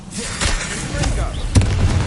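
A Confringo fire spell goes off in Hogwarts Legacy on PS5, with a sharp burst near the middle of the clip and another strong hit toward the end, over dense continuous game effects and background noise.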